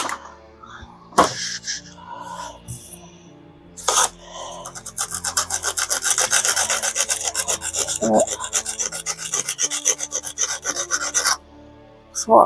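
Sandpaper rubbing a UV resin pendant: a few scattered scrapes, then a long run of fast, steady back-and-forth rasping strokes, close and prominent, ending with a brief knock.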